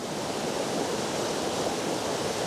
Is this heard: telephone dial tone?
no